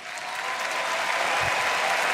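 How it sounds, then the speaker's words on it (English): Madrid crowd at an esports grand final applauds and cheers, a dense, loud wash of clapping that swells and holds steady throughout. "Madrid fans cheering"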